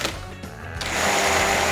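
Sharp EMC 15 1200-watt blender whirring as it blends green tea milk, starting with a few short bursts and then rising into a loud, steady high-speed whine up close.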